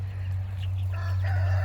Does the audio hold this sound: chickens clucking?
yes